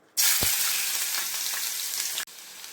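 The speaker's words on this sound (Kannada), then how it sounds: "ಸೊ ಇವಾಗ ನಾನು ಮೊದಲಿಗೆ ಶುಂಠಿ ಬೆಳ್ಳುಳ್ಳಿ ಹಾಕ್ಕೊತಾ ಇದ್ದೀನಿ." Ginger and garlic drop into hot oil in a pan and sizzle loudly and steadily at close range, a bright crackling hiss that cuts off abruptly near the end.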